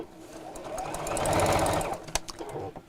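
A sewing machine stitches around the curve of a Christmas apron, its motor swelling into a close, steady whir before slowing to a few separate stitches.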